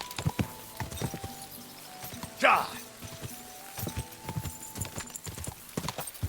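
A horse's hooves clip-clop steadily up close in Kingdom Come Deliverance 2, joined midway by a short shouted voice and a brief whinny-like burst, with hoofbeats continuing throughout.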